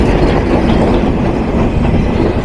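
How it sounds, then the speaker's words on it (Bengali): Intercity Dhumketu Express, train number 769, rolling into Shahid M Monsur Ali station in Sirajganj, a loud, close, continuous rumble and rattle of wheels and carriages with no pause. "train number seven six nine intercity ধূমকেতু এক্সপ্রেস প্রবেশ করল সিরাজগঞ্জের শহীদ এম মনসুর আলী স্টেশনে"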